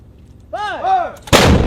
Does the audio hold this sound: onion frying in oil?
no